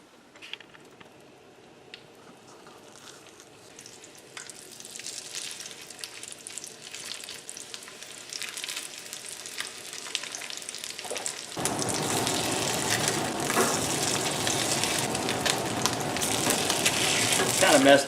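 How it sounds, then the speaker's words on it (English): Fake crab cakes fry in a pan with a soft crackle that builds steadily, then jumps to a loud, dense, broadband sizzle for the last several seconds, close and constant. "when you fry it, it's a little bit hotter"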